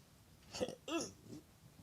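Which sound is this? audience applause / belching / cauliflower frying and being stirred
belching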